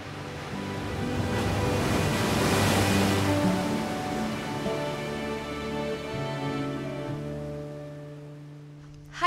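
Ocean waves crash against rocks in a broad roaring surge that swells to a peak, then slowly recedes into a softer, continuous wash.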